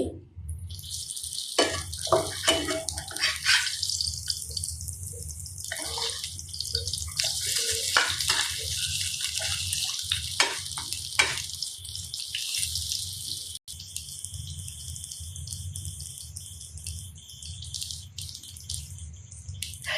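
Shrimp-head fritters frying in a pan send up a steady, close, bright sizzle with faint crackles that runs on without pause and with no talk.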